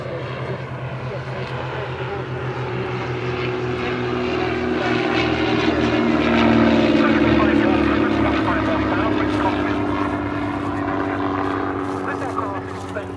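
Cessna 170B light aircraft flying past at an airshow, its propeller engine droning steadily, swelling louder toward the middle as it passes and easing slightly after, with a voice talking over it throughout.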